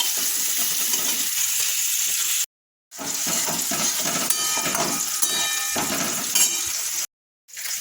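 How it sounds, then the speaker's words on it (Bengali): Loud hissing sizzle from a pan of frying potatoes with turmeric as water is poured in, continuous bubbling with two brief cuts to silence. "এবার মাছের জন্য একটু জলটা দিয়ে দেবো"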